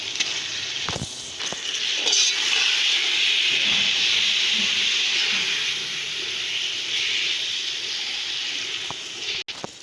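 Saag greens hit a pan of fried spices and set off a loud, steady hissing sizzle that holds for nearly ten seconds, with a few faint clinks near the end.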